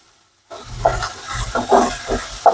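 Dried red chillies and urad dal roast in a pan for a horse gram chutney, stirred with a spoon in quick rhythmic scrapes over a low sizzle after a brief silent start.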